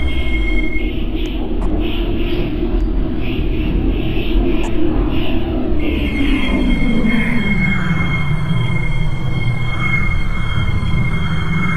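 A metro train at a station platform on the West Central to Delta Expo line hums loudly, its motor pitch sliding downward as it slows or pulls away, with high whining tones and rhythmic clicks over the rumble.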